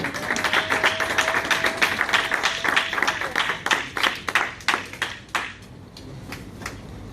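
A church congregation clapping together in a steady rhythmic beat to acclaim the word of the Lord, loud and even at first, then thinning and fading out.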